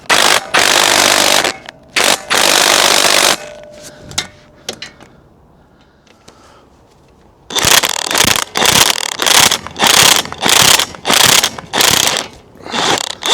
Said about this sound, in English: I'm going to give it a little bit more with the impact